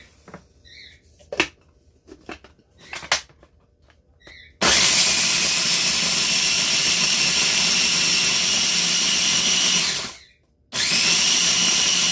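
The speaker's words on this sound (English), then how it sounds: "I like my little mini food processor here" A mini food processor crushing cookies, starting after a few faint clicks and knocks with a loud steady whirring grind, briefly stopping, then roaring back on.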